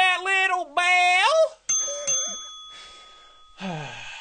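Notification bell ding effect in a Fortnite gaming upload, a bright single chime with a sustained ringing tail following a stretch of voiced vocal sounds.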